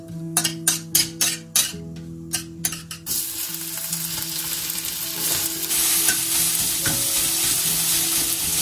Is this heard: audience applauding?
no